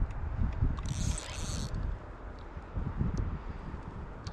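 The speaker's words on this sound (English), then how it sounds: "it's so windy out here today" Strong gusts buffet the microphone beside the Chicago River, a low rumbling roar that swells and eases for a few seconds, close and continuous.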